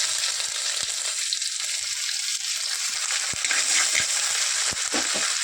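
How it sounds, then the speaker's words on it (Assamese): Panch phoron, garlic and ginger sizzle loudly in very hot oil, a dense, steady crackling fry up close, with a few sharp pops and a scrape of stirring. "এইপিনে তেলটো বহুত গৰম হৈ গৈছে। এইপিনে দি দিছোঁ মই পাঁচফোৰণ আৰু লগতে নহৰু আদাখিনি দি দিছোঁ।"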